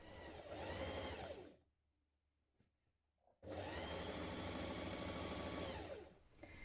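A sewing machine stitches the inner leg seam of a jumpsuit, two loud steady whirring runs split by a short quiet pause with faint handling clicks.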